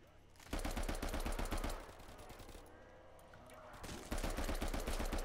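Thompson submachine gun firing in Black Ops 3 Zombies, two sustained loud automatic bursts separated by a short pause with a fading tail between them.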